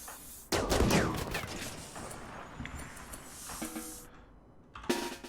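Gunfire in the video game RimWorld, a burst of rapid shots near the start, scattered pops through the middle, and a sharp shot near the end.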